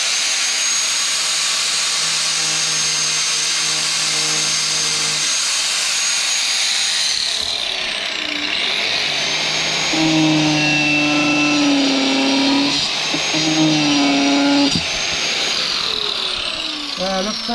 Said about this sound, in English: we're going to try it with a grinder to get the plastic off the aluminium